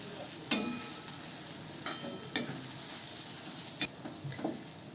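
A spoon scrapes through turmeric, red chilli powder, coriander powder, pulao masala and salt for chole paneer pulao, with a handful of sharp, separate clinks and scrapes over a faint low sizzle.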